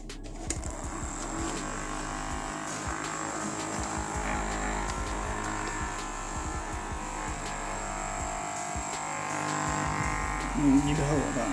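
A small electric fan motor in a homemade device built from simple tools gives a steady, close buzzing hum with faint clicks. It runs continuously and swells slightly louder near the end.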